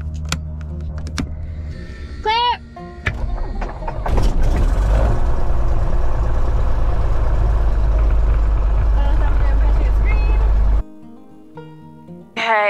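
A 1967 airplane's piston engine cranks and catches, then roars loudly and steadily up close for several seconds before cutting off abruptly, with a few short tones before it starts.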